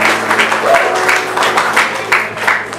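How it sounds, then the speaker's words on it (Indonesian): Church congregation clapping at an Indonesian GBI anniversary thanksgiving service, a steady burst of applause with some scattered voices mixed in, fairly close and moderately loud throughout. "Boleh kasih tepuk tangan lagu Bapak Ibu terima kasih."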